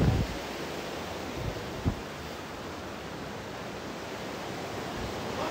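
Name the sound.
waterfall at Mila Bahari, Logar, Afghanistan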